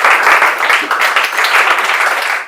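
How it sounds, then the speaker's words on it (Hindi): Audience at a Kolkata celebration of students' 10th-board results applauding, dense continuous clapping that stays loud and even for the whole stretch. "जोरदार ताली खड़ा होकर बजा दीजिए आप लोग।"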